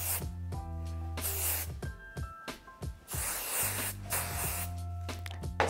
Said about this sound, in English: flexible hold hairspray here.